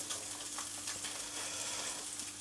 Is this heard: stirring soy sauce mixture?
yes